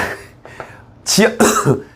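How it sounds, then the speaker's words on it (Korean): Two short, harsh coughs in quick succession, close and loud, following a brief quiet voice. "기침이 다 나오네요."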